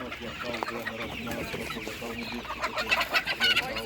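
Large broiler chickens cluck steadily at a livestock market, the clucking close and layered over a noisy crowd, with people talking and louder bursts near the end.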